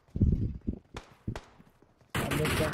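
Gunfire from a mobile battle royale video game, heard as a few short sharp bursts between bouts of talk, then a sustained loud dense burst of shooting near the end.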